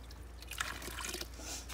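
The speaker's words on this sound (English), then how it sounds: "and I go ahead and mix water." Water being mixed into dry potting soil in a pan, giving soft, quiet wet trickling and squelching that stays low and continuous without any talk.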